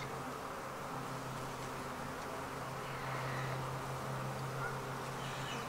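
Honey bees drone steadily inside an open hive during a queen split, a dense continuous buzz with a low hum that swells slightly midway, close and alone with no talking.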